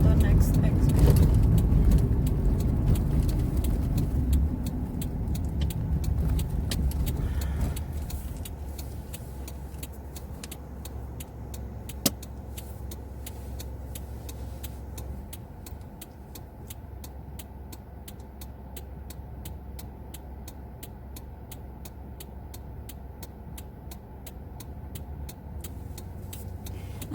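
A car cruises along a freeway with a steady low road rumble and engine drone inside the cabin, louder at first and then settling into a constant hum, with a single sharp click partway through.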